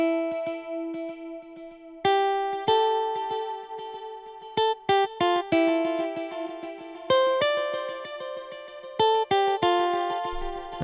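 A bright plucked guitar lead from a software instrument plays a 90s future jazz/downtempo riff of quick notes and held tones, repeating in phrases with clean sharp attacks and no voices.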